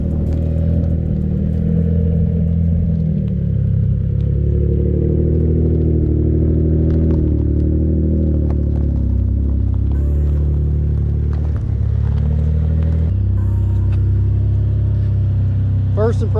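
A Mitsubishi 3000GT VR4 on newly fitted Tein Flex Z coilovers driving, its engine a loud continuous drone from the cabin that rises and shifts in pitch with revs throughout.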